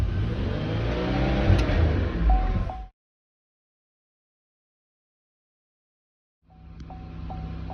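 A car engine with faulty oxygen sensors runs unevenly, its pitch rising and sagging for about three seconds, then cuts to silence before a quieter uneven idle with a repeating beep returns.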